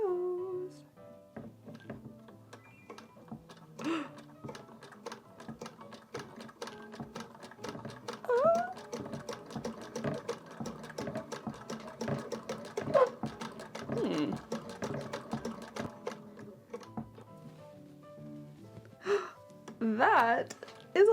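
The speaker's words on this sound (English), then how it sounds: "This machine that is over 100 years old just sewed a lock stitch for me." A century-old Singer 99K hand-crank sewing machine stitches a lock stitch through fabric, giving a steady rhythmic mechanical clatter at close range for most of the stretch, with a person talking over it at times.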